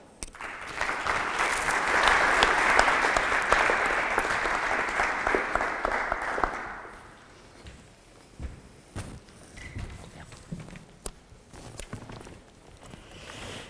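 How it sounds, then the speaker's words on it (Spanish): Loud applause from an audience at a conference talk, dense clapping for about seven seconds that then fades into scattered claps, footsteps and shuffling in a quieter room. "un fuerte aplauso, por favor"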